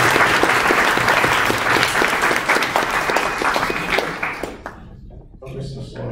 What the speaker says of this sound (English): so we should give them a clap